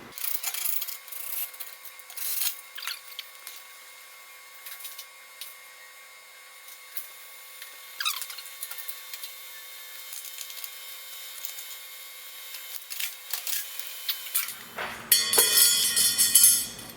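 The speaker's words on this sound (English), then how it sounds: "I find the most ancient drill that smells like it's catching fire as I'm using it" An old, overheating power drill bores holes for the tail lights on a 1971 VW Super Beetle, giving a steady, thin grinding whine that rises into a louder, fuller burst near the end.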